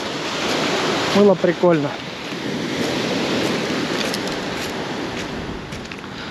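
Waves wash onto a beach at Makopse on the Black Sea coast in December, a steady, broad surf hiss with some wind. Someone speaks briefly over it near the start.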